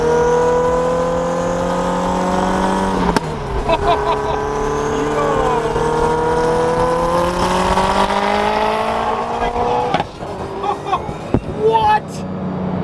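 An SSC Tuatara hypercar engine revs loudly and sustains a rising, howling roar with sharp throttle blips, heard close by.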